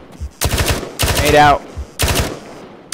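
Three short bursts of automatic rifle fire from a close firefight near a military installation, each a rapid rattling string of loud shots, separated by brief pauses, with a quick spoken word between them.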